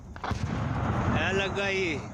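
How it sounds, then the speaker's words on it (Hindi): Gunfire during an armed encounter in a dense forest in Pulwama, heard as distant shots and thuds under a reporter speaking, with a whistling tone drifting in the background. "गोलियों की आवाज सुनाई दे रही है वो आप सुन सकते"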